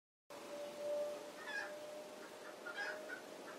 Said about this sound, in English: Damn chicken.